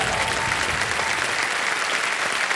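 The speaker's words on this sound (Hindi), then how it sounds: "तालियां बज जाएं इनके लिए।" A studio audience on a television quiz show applauds a contestant who has just won a prize, producing a loud, continuous wall of clapping from many hands that stays even and unbroken throughout.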